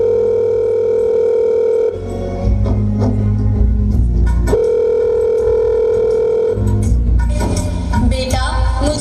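Telephone call during a stage performance: a loud, steady tone, then rising dialing and repeated ringback cycles, with faint stage noise underneath.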